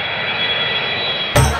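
An airplane engine sound effect for a flight in a comedy sketch, a steady loud jet-like drone that ends in a sudden louder burst near the end, with no talk.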